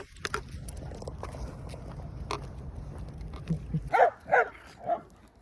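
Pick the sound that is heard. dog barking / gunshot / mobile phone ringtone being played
dog barking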